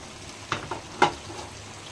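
Tomato stirred into a frying cucumber and chicken curry, with a low sizzle from the pan under a few sharp scrapes and clacks from the spoon.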